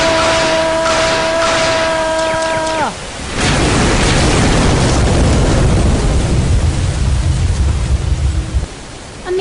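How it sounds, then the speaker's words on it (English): A loud, rumbling blast tears through an enemy warship's main turret in a sci-fi adventure, a sudden roaring explosion that breaks off a steady tone and then sustains as a dense crackling, noisy roar for several seconds. "Amazing shot. Their turret is a flaming wreck."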